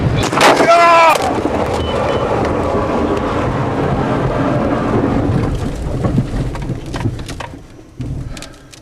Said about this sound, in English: I'm heading into this thunderstorm, Kingfisher County, north.